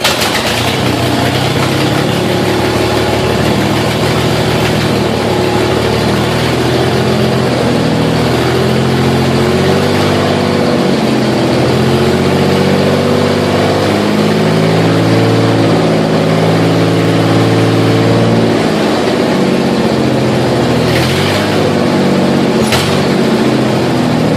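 A twin-turbo Ford Mustang engine idling with no exhaust fitted, a loud, raw, lumpy rumble held close and continuous, with a faint click near the end.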